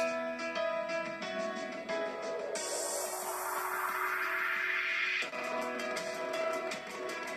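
Electronic riser in a praise song, Sing Praise Unto The Lord (Ha-le-lu-ia): a sweeping noise rises steadily in pitch for nearly three seconds over sustained synth chords, then cuts back to the tonal music.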